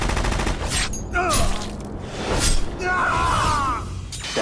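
Rapid gunfire erupts in the Metal Gear Solid digital graphic novel, dense crackling bursts mixed with whooshes and shattering effects, loud and close, with shouting voices in between.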